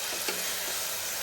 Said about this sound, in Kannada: ಇವಾಗ ಹೆಂಗೋ ಎಣ್ಣೆಯಲ್ಲೇ ಫ್ರೈ ಆಗ್ತಾ ಇದೆಯಲ್ಲ